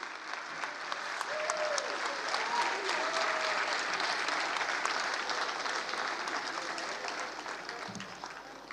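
Sustained applause from an audience at a children's certificate ceremony honouring young dance performers, a steady dense wash of clapping holding at even loudness throughout with no talk over it.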